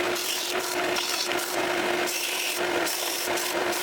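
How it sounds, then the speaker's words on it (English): Steady, close rasping of cut wood edges being sanded for heraldic clarion junction boxes, a continuous scratchy rub with rhythmic strokes and no talking. "now I'll just sand the edges, get them all nice and square and smooth"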